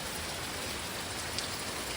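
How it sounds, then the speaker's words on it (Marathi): Heavy rain pours down in a continuous, dense hiss with no voices. "किती पाऊस पडते यार"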